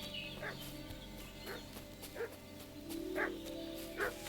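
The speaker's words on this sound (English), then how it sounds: "What's that dog making such a fuss about?" A dog in the Kingdom Come Deliverance 2 video game barks repeatedly in short, evenly spaced yaps over a busy background of game ambience and farmyard sounds.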